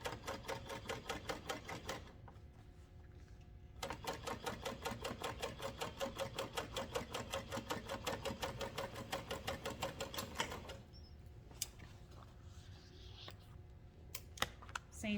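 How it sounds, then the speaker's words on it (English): Sewing machine top stitching a tote bag side panel, fast even rapid-fire needle clatter running in two long bursts with a short pause between, then stopping with a few scattered clicks and handling noises. "then I will top stitch 1/8 of an inch onto the side panel"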